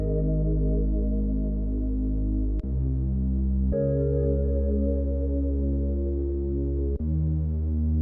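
A synthesized chord stacked with a bass line from an Afrobeat production, made with the Diva synth, plays as sustained warm tones that shift to new chords every few seconds, steady and loud with no voices.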